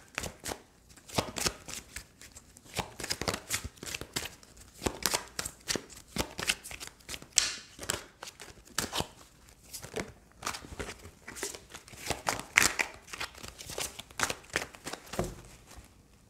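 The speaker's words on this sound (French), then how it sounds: "Alors on va tirer d'autres cartes." Tarot cards are shuffled and handled at close range in a quiet room, a steady run of soft riffling snaps and flicks with brief pauses between bursts.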